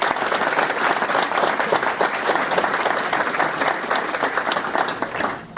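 Audience at a lodge schools-night award event gives sustained, dense applause for the honorees, steady clapping from a roomful of people at even volume throughout, fading slightly at the very end.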